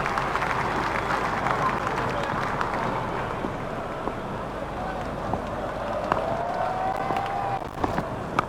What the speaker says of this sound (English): Crowd were brought to their feet by that shot